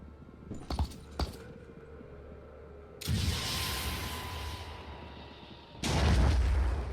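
Weapon fire in the video game Phoenix Point: two sharp metallic clicks, then a sustained loud roaring blast, and after a pause a second heavier rumbling burst, close and alone.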